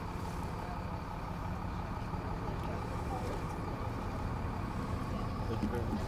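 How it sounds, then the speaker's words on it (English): Heavy traffic on the 520 Bridge roadway, with studded tires wearing the surface, gives a constant dense roar of tires and engines, unbroken and fairly loud, with faint voices mixed into the background. "the actual wear on the roadway with the studs and the heavy traffic changes"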